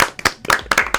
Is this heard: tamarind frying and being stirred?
no